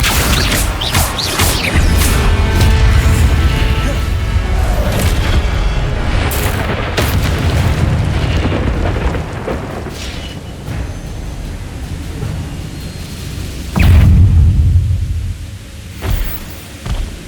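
Fire spells cast over and over in Hogwarts Legacy: loud booming blasts and crashing impacts fill the scene almost without pause, a heavy rumble that eases slightly midway before another strong burst near the end.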